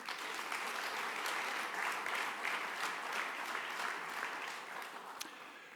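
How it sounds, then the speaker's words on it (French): Warm, sustained applause from a conference audience at a closing plenary session, a dense even patter of many clapping hands that holds steady throughout and eases slightly at the end. "Mes amis, je vous demande de les applaudir chaleureusement."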